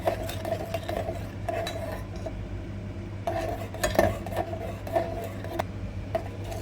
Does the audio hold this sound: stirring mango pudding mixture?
yes